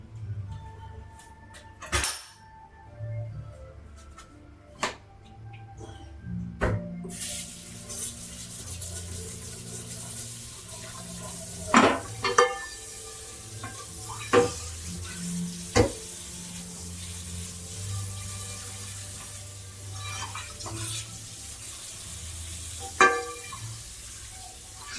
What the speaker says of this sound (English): Let's wash the rest of the dishes.